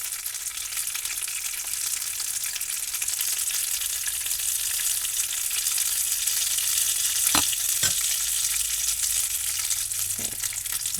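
Homemade taquitos frying in a pan, a loud continuous sizzle of hot oil with a few brief clicks of handling partway through.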